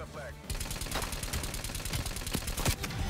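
Submachine gun fire in a video game, a sharp rapid rattle of evenly spaced shots starting after a short pause and running steadily to the end, close and loud.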